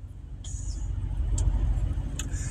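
A steady low truck engine rumble idles throughout, close and continuous, with a couple of faint high squeaks over it.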